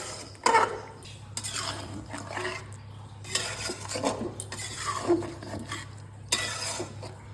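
Cashew nut paste being stirred into chicken in a pan over a low flame: a metal spoon repeatedly scrapes and clanks against the pan in irregular strokes, close and clear over a faint steady hum.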